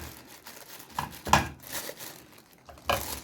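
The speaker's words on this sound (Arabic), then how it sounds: "هنطلع من الكيس الهواء، طلع من الكيس الهواء" Crinkling of a plastic bag filled with red peppers as air is pressed out, a few soft rustling bursts close by, quiet overall, with no talking.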